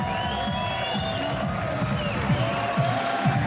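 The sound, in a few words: crowd cheering a snooker maximum break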